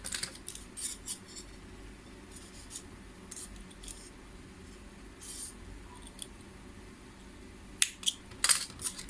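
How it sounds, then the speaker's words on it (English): Scissors trim excess yarn from a small crocheted flower, giving a few crisp, quiet snips and light clicks, with a quick cluster of cuts near the end and a quiet room between them. "I'm going to cut off the excess"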